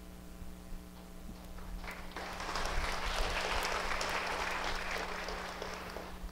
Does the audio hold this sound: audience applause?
yes